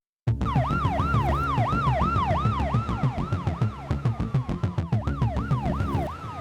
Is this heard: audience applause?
no